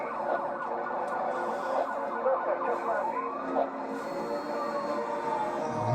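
A police siren wails in a car chase in a PS3 racing video game, its tone sweeping up and down continuously over engine noise, fairly loud with no voices.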